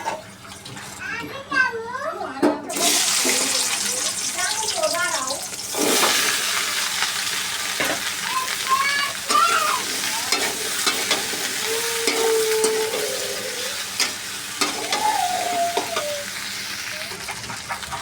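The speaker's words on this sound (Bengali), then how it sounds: "তার সাথে এখন আবার ঢেঁড়স ভাজা বসিয়ে দিব" Okra (ladies' finger) dropped into a hot pan bursts into a loud, sudden sizzle that settles into a steady frying hiss with stirring scrapes, while a voice talks intermittently over it.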